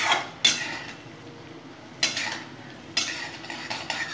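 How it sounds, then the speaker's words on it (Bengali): A utensil scrapes and clinks against a pan in three sharp bursts while mung dal fries with a faint sizzle underneath. "ভালো করে মুগ ডালটা একটু ভেজে দেবো।"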